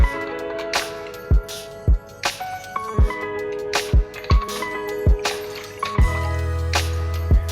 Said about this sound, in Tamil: இப்போ இந்த கப்பில் ரெண்டு கப்பு தண்ணி விட்டுக்க போகிறேன்